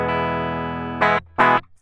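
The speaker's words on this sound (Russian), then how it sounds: "Вот как у нас звучит DI-сигнал." A clean, unprocessed electric guitar signal straight from a Zoom G2X FOUR processor: one held note rings out, followed by two short, sharp strummed chords, close and dry with no voices.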